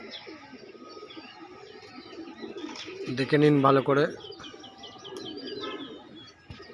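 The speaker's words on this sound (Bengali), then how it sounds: "এই পায়রাগুলো বিক্রি আছে," Pigeons kept for sale, including fancy breeds, coo in a brief throaty burst amid faint chirps and background noise, while someone talks over the scene.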